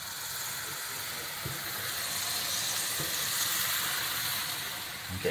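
Pancake batter poured into a hot frying pan gives a steady, fairly loud sizzle and hiss, broken by a few faint clicks and a small knock near the end.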